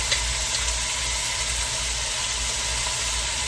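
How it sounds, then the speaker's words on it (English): Onion powder and garlic powder sauteing in a pan for an Alfredo-style sauce, giving a steady, close sizzling hiss that holds level throughout with no talk. "I'm just going to saute this up so it's got a good color on it, so it's brown."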